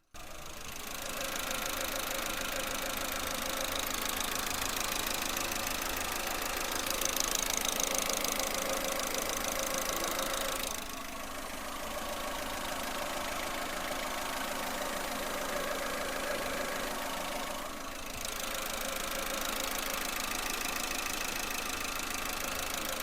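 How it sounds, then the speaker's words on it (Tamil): A 2019 Maruti Suzuki Eeco in showroom condition idles steadily with the microphone held close to the engine, producing an even, continuous mechanical hum for about twenty-three seconds, with two brief dips in level partway through. "இப்போ வண்டியோட இன்ஜின் நாய்ஸ் நான் உங்களுக்கு மைக்கை பக்கத்தில் வச்சு எப்படி இருக்குன்றதை காட்டுறேன்."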